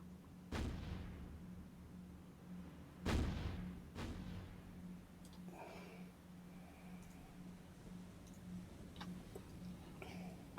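Warship guns firing in the naval video game War on the Sea in the Mediterranean, a few heavy distant booms spaced seconds apart, followed by faint lighter reports over a steady low engine hum.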